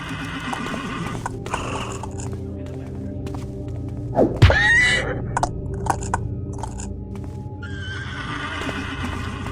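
A horse neighs loudly up close in the video game The Black Parade, with hoof clops and a heavy thud around it, over a steady ambient game bed.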